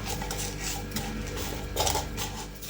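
Soft scraping and clinking in a bowl as yeast and sugar are pressed and mashed with a spoon, a steady, quiet kitchen sound.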